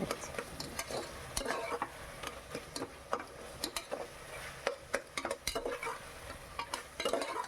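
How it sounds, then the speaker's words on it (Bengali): Ginger garlic paste sautés in a pan as a spoon stirs and scrapes, quiet sizzling under irregular clinks and scrapes against the metal, with no one talking. "আদা রসুন বাটাটা দিয়ে ভালো করে কষিয়ে নিতে হবে"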